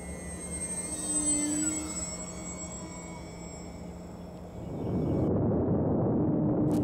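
A homemade asymmetric RC model of the BV141 reconnaissance plane flies inverted, its motor whining steadily at a moderate distance before a louder, rougher rush of sound swells near the end.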